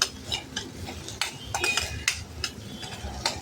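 Sliced onion being sautéed and stirred in a pan, giving light, irregular scrapes and clinks of a spoon against metal over a faint sizzle, fairly quiet and close.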